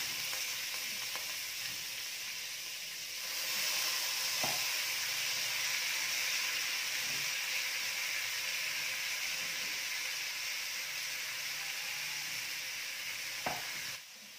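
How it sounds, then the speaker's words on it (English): Basmati rice is stirred in a hot pan with cumin seeds and whole spices, giving a steady, close sizzle and frying hiss with occasional soft scrapes of a spoon. "I'm mixing my rice together with my whole spices, including the cumin seeds."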